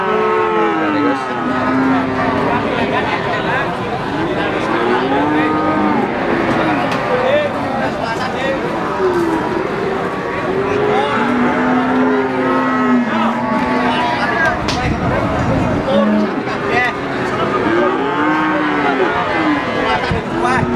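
Cattle moo again and again at a busy Indonesian cattle market in Pati, with cows and buffalo nearby, long low bellows overlapping one another against a constant crowd murmur.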